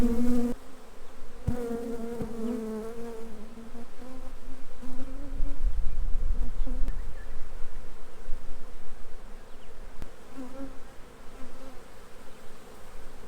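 Honey bees buzz steadily and close by during a spring backyard beehive inspection, a dense continuous hum that rises and falls and goes on without any talk.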